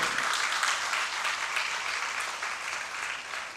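Audience applause fills a cultural hall during a Hindi poetry gathering in Bhiwani, a dense, steady wash of clapping that holds loud throughout and tapers slightly at the end.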